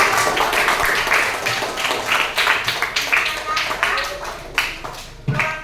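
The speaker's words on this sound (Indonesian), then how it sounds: "Tepuk tangan untuk teman kita." Classroom applause for a student who has just answered, scattered hand claps of a small group of children with irregular rhythm, fairly close, with some voices mixed in and a few sharper individual claps near the end.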